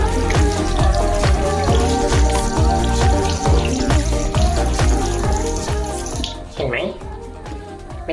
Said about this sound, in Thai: แค่ใช้น้ำล้าง มันก็ออกหมดแล้ว